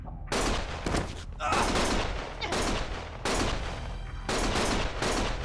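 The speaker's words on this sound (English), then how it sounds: "Stop shooting!" Sustained bursts of automatic gunfire from a Lost Judgment video game scene, loud and close, coming in repeated volleys with brief gaps between them and no voices over the shooting.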